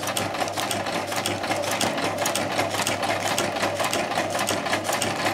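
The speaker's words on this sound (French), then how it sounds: "Donc ça c'est pour la couture d'une bande de ruban satin, d'un renfort qui va aller sous les fourreaux" A sewing machine runs steadily and loudly, stitching a satin ribbon reinforcement strip for a spinnaker's batten pockets, its needle chattering in a fast, even rhythm with no pauses.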